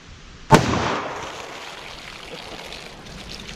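A single loud gunshot from a .44 Magnum fired into a baloney ballistic pack, one sharp outdoor crack followed by a fading rumble over quiet background noise.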